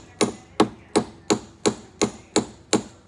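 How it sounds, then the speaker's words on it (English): A small hammer strikes a bolt on the rusty spring shackle of a 1962 Ford Thunderbird: eight sharp metallic taps in an even rhythm, close and loud, with no voices. "Little hammer action."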